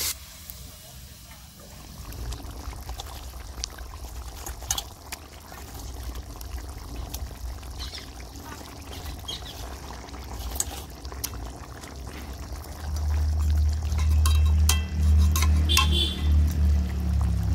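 Water pours steadily into a pot, the gush growing louder and fuller near the end, with a faint voice in the background.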